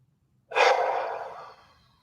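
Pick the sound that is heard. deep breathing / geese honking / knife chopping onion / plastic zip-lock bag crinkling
deep breathing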